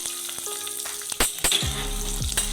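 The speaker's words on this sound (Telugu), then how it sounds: "ఒక పెద్ద ఎల్లిగడ్డ తీసుకున్నాను వేసుకొని పొయ్యి మీద వేసుకోగానే స్టవ్ ఆఫ్" A large garlic clove fries in a pan on the stove with a steady, close sizzle, broken by a few sharp clinks and stirring knocks, with no voices.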